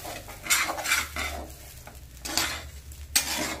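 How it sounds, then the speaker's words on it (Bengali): Rice stir-fried in a pan for white pulao, with repeated scraping and rustling bursts as a spatula pushes the grains against the metal, over a faint low sizzle and no talk. "এভাবে সুন্দর করে ভাজতে থাকব।"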